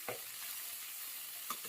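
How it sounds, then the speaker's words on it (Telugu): Coriander leaves frying lightly in a pan for chicken curry give a quiet, steady sizzle with a couple of soft stirring clicks, close but faint and brief. "లైట్గా కొత్తిమీర అనేది వేసేసేసుకొని దాన్ని కూడా కొంచెం లైట్గా వేగనివ్వాలి"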